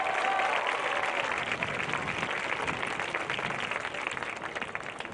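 A large crowd at a 2025 high school football game applauds the homecoming court with dense, steady clapping that holds at an even level throughout, rushing and slightly distant.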